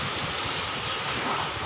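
Strong typhoon wind roars steadily and loudly in Tarlac City, a dense rushing noise buffeting the microphone with no pauses.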